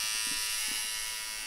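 An electric shaver buzzes steadily and loudly up close, a dense continuous high whine that holds for its whole short length.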